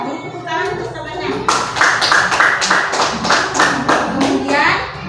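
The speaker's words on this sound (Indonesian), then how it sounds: "Tepuk tangan untuk temannya." Children in a classroom break into rhythmic applause for a classmate, a steady run of claps near and loud after a brief spoken moment, with a voice heard at the start.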